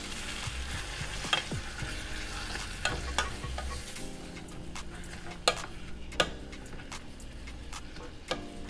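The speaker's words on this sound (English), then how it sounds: "Stir fry it for a while." Marinated kimchi and onion stir-fried in a pot for kimchi jjigae, a close steady sizzle broken by repeated sharp scrapes and knocks of a utensil against the pot.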